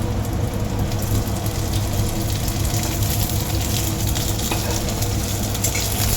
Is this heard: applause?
no